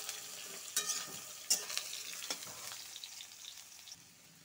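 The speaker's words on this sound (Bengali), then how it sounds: "অল্প ভেজে নিব আগে।" Soybean chunks fry in hot oil in a kadai, giving a soft, steady sizzle with a few sharp clinks and scrapes of stirring, fairly quiet and with no voices.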